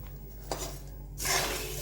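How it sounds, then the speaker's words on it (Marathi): Puffed rice (churmura) tipped into a pan with hot tempering for bhadang, giving a short, soft rattling spill of light grains against metal, with faint clinks, close by and quiet with no voices. "आता यामध्ये मी हा सर्व चुरमुरा टाकणार आहे"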